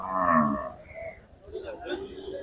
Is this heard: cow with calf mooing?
yes